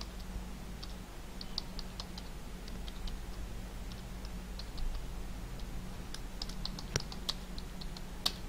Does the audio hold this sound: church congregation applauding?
no